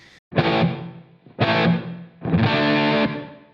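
Three sustained electric guitar chords through a Line 6 Helix ring out with a distorted edge, each swelling into a lingering reverb tail with long pre-delay before the next strike.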